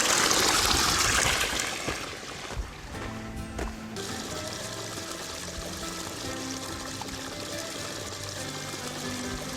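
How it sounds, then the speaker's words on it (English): Water pours for an outdoor bath at a remote opal-mining camp: a loud, rushing splash for the first couple of seconds, then a steadier, softer flow that keeps running. "I'm gonna have a bath."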